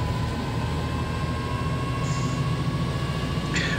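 Bombardier bi-level commuter train pulling away in the Train Sim World 5 game, a steady low rumble of motors and rolling stock with a faint tonal whine, ending in a brief higher hiss.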